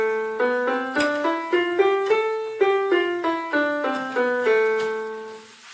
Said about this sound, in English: And then the other one is the A natural minor,